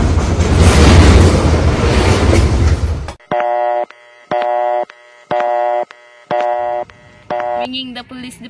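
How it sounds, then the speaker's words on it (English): A telephone handset plays a repeated ring-back tone: five loud, evenly spaced electronic buzzes alone after a burst of louder noise at the start, calling a police department. "Ringing the police department."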